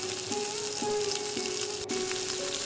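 Masala with mint leaves fries in a pan, a steady close sizzle running throughout, with a few soft stirring scrapes and a faint background tone.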